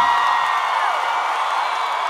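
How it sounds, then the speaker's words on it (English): A large church crowd cheers, whoops and claps in a standing ovation welcoming a preacher, a loud, dense and continuous roar of voices. "Keep clapping, keep clapping."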